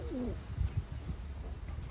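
Pigeons coo nearby in soft, low, throaty calls, with one rolling coo standing out clearly over a faint background hiss.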